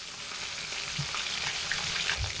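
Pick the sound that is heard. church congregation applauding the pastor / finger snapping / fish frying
fish frying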